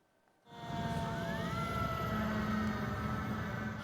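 Emergency rescue vehicles and ambulances heading to a riverside embankment near the airport in Washington swell in after near-silence, wailing sirens rising and falling over a loud traffic rumble, no talk.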